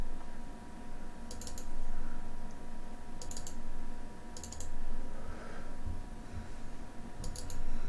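Several short bursts of clicking from a computer mouse or keys, each a quick cluster of sharp taps, separated by a second or more of faint room hum, close and fairly quiet with no voices.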